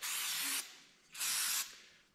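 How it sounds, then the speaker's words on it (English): Brake cleaner gives two short, close hissing sprays, each about half a second, with a pause between them, during a wipe-down of a part in a workshop. "I'm just gonna give it a little brake clean wipe down"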